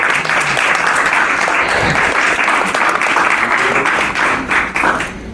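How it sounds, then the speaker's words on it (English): Audience members at a film Q&A applaud a group, with loud, dense clapping that holds steady before tapering off at the end. "give them another round of applause"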